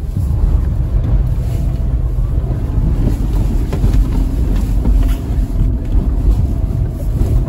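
Land Rover Defender wading slowly through deep water on an off-road course, a heavy continuous low rumble of engine and churning water with wind buffeting the microphone throughout.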